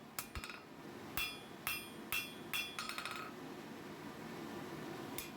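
Hammer blows on hot steel while forging fire tongs, a handful of sharp ringing strikes in an uneven rhythm with a faint quieter tap between, followed by a low steady background.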